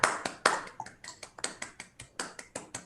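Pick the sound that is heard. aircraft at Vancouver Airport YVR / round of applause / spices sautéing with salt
round of applause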